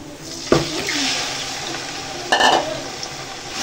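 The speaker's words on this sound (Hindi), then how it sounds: "और इसको हमने तब तक फ्राई करना है जब तक कलर का, चिकन का अच्छी तरह कलर ना आ जाए।" Chicken frying with onions for biryani gives a moderate, close sizzle and bubbling, broken by two louder clatters of a spoon being stirred, with no voices.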